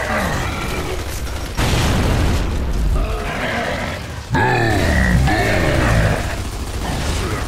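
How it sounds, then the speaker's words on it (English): Frag grenade blasts in Gears of War 3 co-op combat, with heavy booms and sudden loud bursts amid gunfire and in-game shouting voices, dense and chaotic throughout. "Frag out!"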